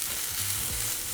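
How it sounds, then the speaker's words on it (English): Chopped onions fry in a buttered pan, giving a steady close sizzle with faint scraping underneath and a few low tonal hums. "I'm gonna go ahead and throw in the onions first and let those go for about"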